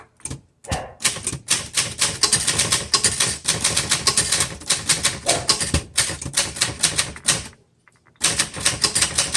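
A 1968 Adler Universal 20 desktop typewriter being typed on, a rapid loud run of crisp key strikes in bursts with brief pauses, close and alone.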